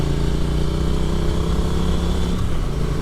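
A Triumph Street Twin 900 cc motorcycle engine pulls hard after a downshift on an evening ride, a loud, close, continuous rumbling drone with wind noise and no break in the sound.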